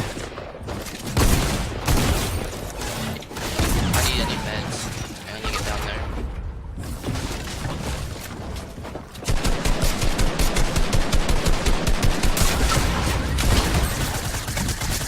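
Rapid shotgun fire from a new gun in a fast-paced video game, with loud repeated blasts packed densely together. The shots grow into a steady, rhythmic volley in the second half, and faint talk sits beneath the gunfire.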